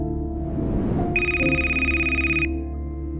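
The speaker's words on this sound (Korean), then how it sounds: "그때 전화가 울렸다." A telephone bell rings once in a single sustained burst over a low background hum.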